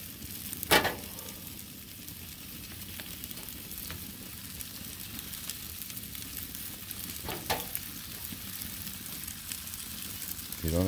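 Chicken pinchos on skewers sizzling steadily as they cook at a slow simmer, a continuous close frying crackle with a couple of sharp clicks and scrapes from handling.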